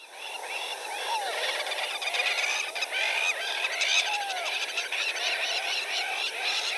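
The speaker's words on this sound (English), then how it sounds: "And here's what the crown lapwing sounds like." Calls of a crowned lapwing, a black-and-white-crowned African bird, recorded outdoors on a southern African birding safari: repeated sharp, sliding whistles and chattering notes over a steady bed of other birdsong and insect noise, moderately near.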